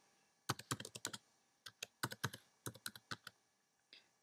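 Quick light tapping on a computer keyboard as a password is typed, in two short irregular flurries of keystrokes with a brief gap, fairly quiet and close, with no voices.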